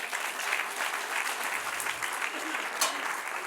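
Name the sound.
applause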